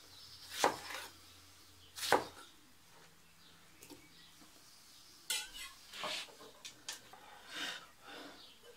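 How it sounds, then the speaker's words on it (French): Knife cutting tomatoes into quarters on a board: a few sharp, separated chops spaced a second or so apart, then a cluster of lighter taps and clatters, faint and close in a quiet kitchen. "Et les tomates. Simplement les couper en 4."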